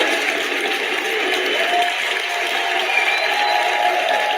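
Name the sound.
audience giving a round of applause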